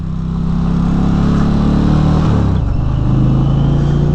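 A loud, close 2022 Indian Pursuit Dark Horse motorcycle engine droning steadily, its pitch shifting partway through as the rider speeds up to about 45, with wind rush underneath.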